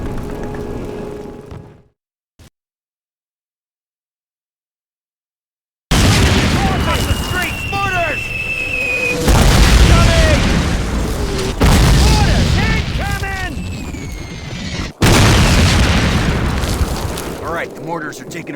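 Mortar explosions in the 2003 Call of Duty game, a sequence of heavy booming blasts following a brief lull, with a soldier's voice shouting amid the battlefield din.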